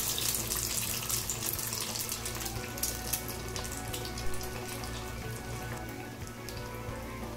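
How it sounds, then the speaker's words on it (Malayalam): Keto urad dal vada, an egg-washed lentil fritter, frying in hot oil over a medium-to-low flame, giving a steady, dense sizzle and crackle that runs throughout without speech. "ഇനി ഇത് ചൂടായ എണ്ണയിലേക്ക് ഇടാം."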